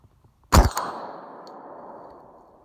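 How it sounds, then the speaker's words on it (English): A single sharp rifle shot cracks out with a metallic ring and a long fading echo across an open range, fired at a target around 100 yards away. "I'm shooting kind of a long ways, and you can kind of see the target down there"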